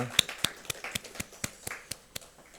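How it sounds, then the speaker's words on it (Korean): Church congregation at a special dawn prayer service clapping faintly, with about ten spaced claps in a slow, even rhythm heard at a distance. "우리 하나님께 감사와 영광의 박수 올려드립니다"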